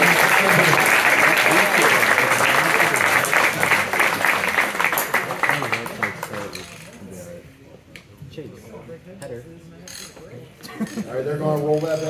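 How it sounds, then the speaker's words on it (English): Loud applause from a crowd at a motorsports engine teardown event fills the first six seconds, dense and sustained, then thins into scattered clapping and crowd noise with voices near the end. "Give them a big round of applause so they can't communicate well enough."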